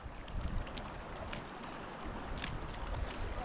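Canoe paddling on the Buffalo River: soft, irregular water splashes and paddle strokes at close range over steady outdoor wind and water noise, with no talk.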